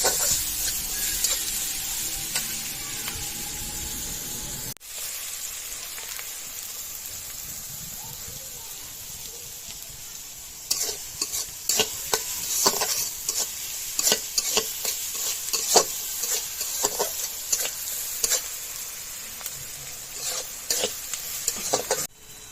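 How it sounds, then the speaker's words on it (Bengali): Chopped onions sizzle steadily in hot oil in a pan, the frying hiss continuous throughout and joined in the second half by frequent close clicks and scrapes of stirring. "পেঁয়াজ কিন্তু কিছুক্ষণ আমি ভেজে নিয়েছি"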